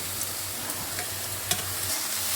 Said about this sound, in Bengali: নেড়ে মিশিয়ে নিয়েছি। দিয়ে দেব কেটে রাখা উচ্ছে।